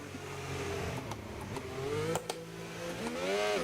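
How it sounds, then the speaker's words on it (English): A race car engine inside a VR sim racing game hums and whines at low volume, its pitch rising and falling as the car accelerates and shifts, with a sharp rising rev near the end and no talking. "the engine sounds are incredibly low"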